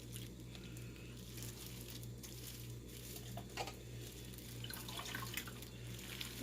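Dye-soaked yarn being wrung out by gloved hands, liquid pattering and dripping faintly and irregularly against a low steady hum, with a few sharper splashes toward the end.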